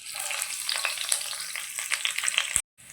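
Steady close sizzling of peeled garlic cloves and seeds frying in hot oil, crackling continuously, then cutting off abruptly near the end.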